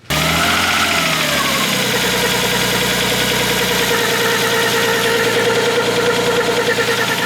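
A Nissan RB car engine idles up close with a steady, rough mechanical chugging and faint ticking, running continuously after a brief start.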